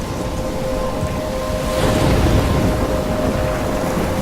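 A thunderstorm at sea, with steady rain and rough water rumbling close and loud, swelling into a heavier roll of thunder midway before easing back to a constant stormy wash.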